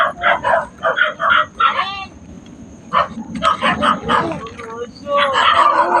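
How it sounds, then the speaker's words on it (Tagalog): Dog barks and whimpers in short yelping bursts near a cornfield, in several clustered runs with pauses, alongside people talking nearby. "Parang gusto lang tayo ng aso."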